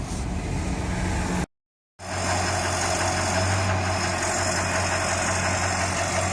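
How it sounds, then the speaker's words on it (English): Exhaust heat shield rattling on an LB7 Duramax diesel truck, a steady close metallic buzz within the loud engine drone that cuts out briefly near the start, then resumes. "It's just a heat shield rattling on the exhaust."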